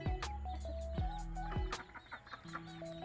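Backyard chickens settle toward their coop at dusk, giving soft repeated clucks and short calls close by, with a steady low hum underneath and no talking.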